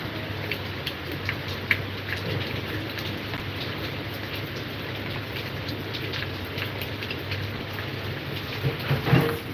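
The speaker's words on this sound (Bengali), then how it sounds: "বৃষ্টি প্রচন্ড বৃষ্টি হইতেছে" Heavy rain pours down in a dense, continuous patter with scattered louder drops and a brief swell near the end, steady and close throughout, with no one speaking.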